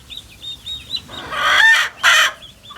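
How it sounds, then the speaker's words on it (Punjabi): Hens cluck in short repeated calls with chicks peeping softly, ending in two louder, harsher squawks close by. "ਪੰਜੇ ਚੂਚੇ ਬੈਠੇ ਨੇਗੇ"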